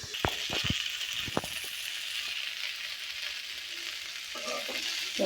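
Eggplant, potato and dried fish bhaji sizzles softly in a pan over a village stove, with a few sharp spoon clinks and scrapes early on and a quiet, continuous frying hiss throughout.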